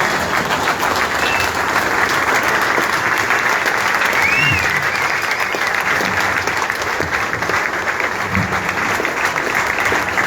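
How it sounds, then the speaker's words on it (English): A meeting audience on its feet gives a round of applause, dense and loud, sustained evenly from start to finish with no voices over it. "I ask that we all quietly stand and give him a round of applause"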